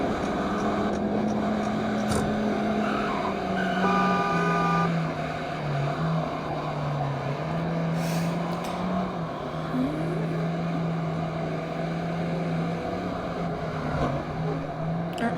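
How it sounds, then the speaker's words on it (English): A Volkswagen Atlas in a driving video game accelerates along a highway, the engine note climbing and shifting steadily while passing a truck, with a continuous synthetic roar and no talking. "Let's hit the gas on this Volkswagen Atlas and see how fast this thing can go."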